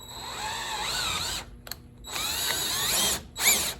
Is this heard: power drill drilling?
yes